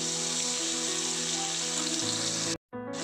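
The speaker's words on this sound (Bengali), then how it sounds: "এবার আমি পেঁয়াজ, আদা, কাঁচা লঙ্কা বাটাটা আমি দিয়ে দেব" Onion, ginger and green chili paste sizzles steadily in hot oil, a loud close frying hiss with a brief sharp dropout near the end before the sizzle resumes.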